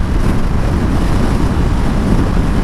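Steady, loud roaring wind buffets the rider's helmet while cruising a 2020 Ducati Monster 797+ naked bike on the freeway at about 80, a constant dense rush with no voices.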